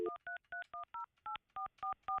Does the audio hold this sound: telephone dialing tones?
yes